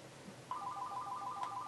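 Phone ringtone trilling in a quiet room: a steady electronic two-tone warble starts partway in and repeats evenly, moderately loud and close, with no talk over it.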